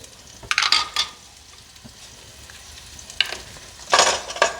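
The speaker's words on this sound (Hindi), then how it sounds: "हम इसको हल्का सा फ्राई करेंगे प्याज के साथ इस तरीके से" Ginger garlic paste and onions sizzle in a pan with a few bursts of stirring scrapes, close by; a low frying hiss runs throughout with louder clusters near the start and end.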